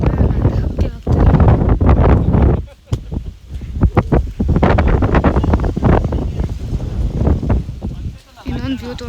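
Strong gusty wind buffets the microphone on Minchukallu Betta, a hilltop trekking spot near Bengaluru, a loud, continuous rumble that dips briefly before surging again, with voices faintly mixed in.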